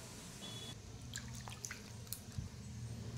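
Water being added to wheat flour while aloo paratha dough is kneaded gives faint, scattered drips and soft squishes over a low background hum, with no talking.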